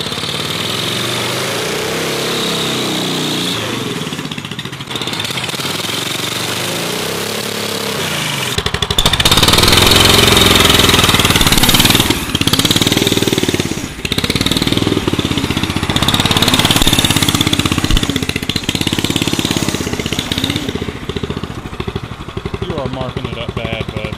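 A turbocharged drift trike engine running, idling rough at first and then revving louder and steadier for the second half, with people talking over it throughout.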